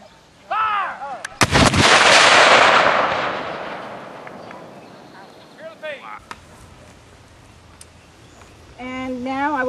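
Cannon battery at a historical reenactment with people in period clothing fires one loud, booming shot that rolls and echoes for several seconds, and a commander's voice is heard before and after the blast.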